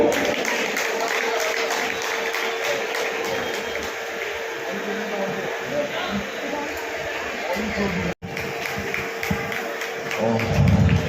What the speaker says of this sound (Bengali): সেই সঙ্গে একটু হাততালি নেবো আপনাদের থেকে